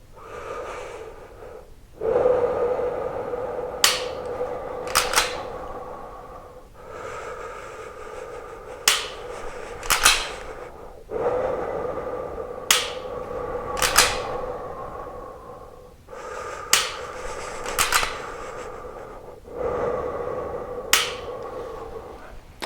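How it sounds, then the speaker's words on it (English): Steady, audible breathing from a shooter firing a pistol, slow inhale-exhale cycles with sharp, loud pistol shots in pairs and singles falling between breaths, close and alone with no talk. "And you're going to hear me breathe."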